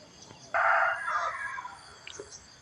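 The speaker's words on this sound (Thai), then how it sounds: "เสียงไก่ร้องโอกเอกโอกเอก" A rooster crows once at a temple on a rainy morning in Lampang, a loud drawn-out call at moderate distance over quiet background, with faint other bird sounds after.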